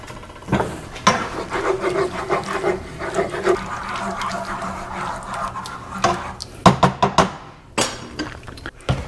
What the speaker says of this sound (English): Let's stir that in a little.